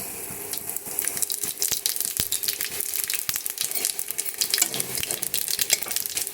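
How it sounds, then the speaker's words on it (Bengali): Whole cumin seeds crackle and sizzle in hot oil with fried garam masala for a restaurant-style paneer dish, busy close popping spits over a steady frying hiss. "গরম মশলাগুলি ভাজা হয়ে যাওয়ার পর এখন দিয়ে দিচ্ছি একটু আস্ত জিরে।"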